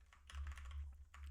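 Figures being typed on a computer keyboard, a brief cluster of quick, soft key clicks over a low background hum, quiet and close, with no talk.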